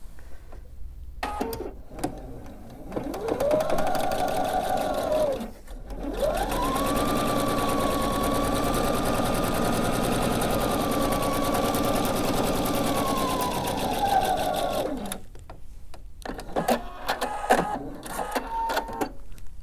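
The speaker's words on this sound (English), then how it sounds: "I'm going to sew a 1/4 inch on either side of that marked line" A sewing machine runs in long steady bursts while stitching through quilt fabric, with a short pause between runs and quieter start-stop stitching near the beginning and end.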